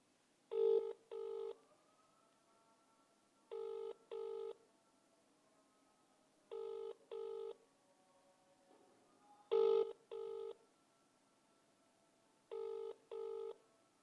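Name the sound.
telephone ringing during an outgoing phone call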